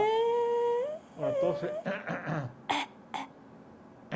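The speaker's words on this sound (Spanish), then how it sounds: "Está tosiendo." A few short, harsh coughs after a moment of voiced sound, spaced apart and fairly close, with brief pauses between them.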